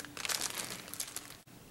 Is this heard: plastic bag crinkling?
yes